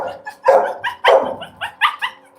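A 15-year-old surrendered shelter dog barks in several sharp, fairly loud bursts at close range, with short uneven gaps between them and no talking over the barks.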